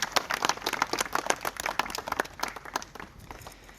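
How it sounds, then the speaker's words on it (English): Guests at a civil wedding ceremony in a lodge clap after the vows, a modest group giving close, distinct claps in an uneven rhythm that thin out and fade over a few seconds. "So let's give them another round of applause for those beautiful vows."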